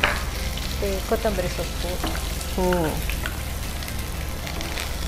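Onion stalks and green chillies fry in a pan with a steady, dense sizzle that runs the whole time, while someone speaks over it.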